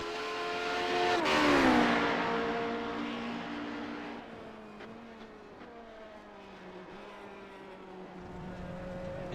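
Radical SR8 race cars at Silverstone howl past in a loud, high-revving sweep that peaks early, then fade into a steady drone of distant engines shifting pitch as more cars circulate.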